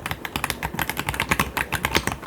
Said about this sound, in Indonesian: keyboard yang punya feel Toki gurih gini siapa lagi kalau bukan Aula F75.